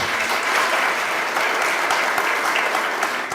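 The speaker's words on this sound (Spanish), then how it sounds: "Un fuerte aplauso para Gonzalo." A hall audience at a memorial lecture series closing ceremony in Teotihuacan gives sustained, dense applause that stays loud and even from start to finish.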